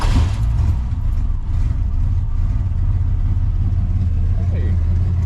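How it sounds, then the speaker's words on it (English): A truck engine cranks and fires on its first start after a new distributor install, then settles into a steady, loud, close idle with a low rumble throughout. "we'll start the truck and see what it does"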